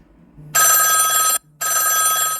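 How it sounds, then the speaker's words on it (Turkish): Two loud bursts of a classic bell-style telephone ring, each trilling for nearly a second, separated by a brief pause. "eski telefon zil seslerini seviyorum"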